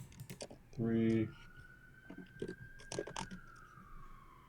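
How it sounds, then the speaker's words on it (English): A distant emergency siren wails in the background of a Tenderloin, San Francisco apartment, its long tone sliding slowly downward beneath keyboard typing, a brief voice and scattered clicks. "sirens in the back"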